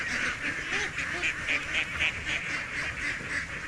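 A flock of large ducks quacks steadily in repeated bursts, a dense chorus of calls close by with no talking.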